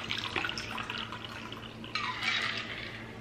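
Strawberry lemon drop cocktail poured from a shaker into a glass, a soft close splashing trickle in two brief bursts, quiet and alone.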